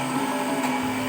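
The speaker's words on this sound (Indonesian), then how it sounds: "lalu kita blender kelapa yang disangrai tadi" Electric kitchen blender grinding toasted (dry-roasted) coconut for beef rendang, a steady, loud, continuous whirring motor hum held without a break from start to finish, with no voices.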